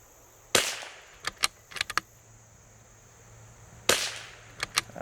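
Two sharp .22LR rifle shots from an L3I Stinger crack out at an outdoor range, each followed by several quick metallic clicks and clacks of handling, with no talking.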